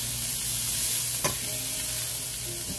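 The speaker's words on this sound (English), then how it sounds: "what I'm going to start doing here is just start putting in my shredded cabbage" A pound of shredded cabbage frying on a griddle, a steady close sizzle with one sharp scrape or clack partway through, no voices.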